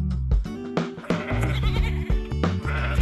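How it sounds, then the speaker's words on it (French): Goats on an organic goat farm that makes cheese bleat over a dense, layered din. Several overlapping calls follow in quick succession and sound close and loud throughout. "Vous y rencontrerez par exemple Michel et Cathy, qui élèvent des chèvres et produisent de délicieux fromages bio"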